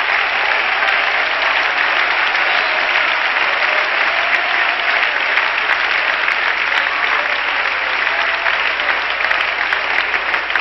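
Church congregation at a 1998 revival service clapping hands in sustained, dense applause that stays loud and steady throughout, with no talking over it.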